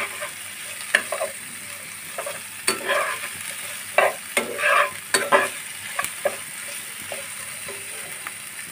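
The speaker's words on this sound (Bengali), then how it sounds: "আদা রসুন পেস্ট, পেঁয়াজ কুচি, কাঁচা লঙ্কা দিয়ে আমি একটু সময় নিয়ে ভেজে নিব।" Ginger garlic paste, chopped onion and green chilli frying in a pan for a Bengali eel fish curry, a steady close sizzle broken by repeated scraping stirs of a spatula, with no talk.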